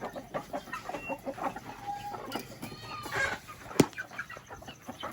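Chickens cluck at feeding time on a small farm, a busy overlapping chorus of hens with short excited calls and one sharp louder squawk near the end, close by and continuous.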